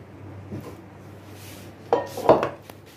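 Black chickpea chaat being served onto a plate, with a faint spoon scrape near the start and then two sharper clinks of a serving spoon against the dish close by, over a quiet kitchen background.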